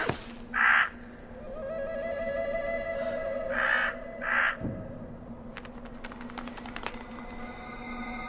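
A raven caws three times, once near the start and then a close pair a few seconds later, each call harsh and distinct over a low steady hum, with some faint clicks and no talking.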